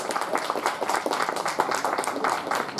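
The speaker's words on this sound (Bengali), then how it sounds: "আরেকটু জোরে হাততালি" Audience clapping at a theatre festival stage ceremony honouring a guest: dense, steady applause from many hands, fairly close and sustained throughout, with no talk over it.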